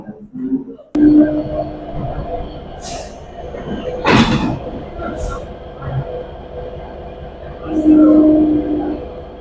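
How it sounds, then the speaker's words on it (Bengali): The Benapole Express pulls out of Kamalapur railway station in Dhaka, with a rumbling train, screeching wheels and clanking carriages rising and falling close by, while people talk over it. "নির্ধারিত সময় থেকে প্রায় পঁচিশ মিনিট দেরিতে Benapole express Kamalapur railway station ছেড়ে"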